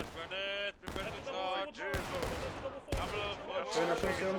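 Musket volleys ring out in the Civil War video game War of Rights, with sharp cracks over loud shouting voices and battlefield clamor.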